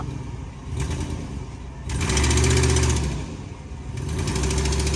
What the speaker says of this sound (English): Just cut the mufflers out of it right away. It's got manifold leaks. Sounds rough.